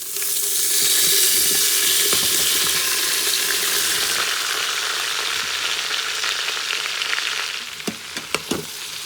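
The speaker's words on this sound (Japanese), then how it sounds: "野菜を入れて、よく炒めます。" Garlic and vegetables sautéing in a pan for a wagyu back ribs curry give a loud, steady sizzle that continues throughout and softens slightly toward the end, with a few sharp utensil clinks near the close.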